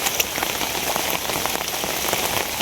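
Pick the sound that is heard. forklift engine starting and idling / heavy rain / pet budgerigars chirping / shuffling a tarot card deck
heavy rain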